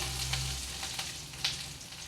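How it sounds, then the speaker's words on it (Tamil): Curry leaves fry in a hot pan for a thuvaiyal, giving a steady, faint sizzle with a few soft crackles over about two seconds, with no talking. "இப்போ கருவேப்பிலை கொஞ்சம் சேர்த்துக்குவோம்"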